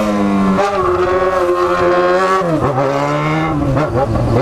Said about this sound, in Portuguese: Desculpa a barulheira da moto